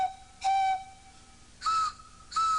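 Ordinary pipes of equal width but different heights are struck in turn, giving four clear, separate musical tones of differing pitch that ring briefly and decay, heard alone with no talk.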